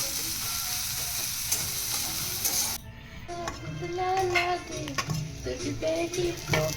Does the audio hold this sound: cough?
no